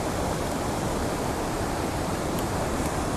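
Steady, dense roar of the waterfall at Llanberis, a continuous broadband rush of falling water heard close and loud without pause.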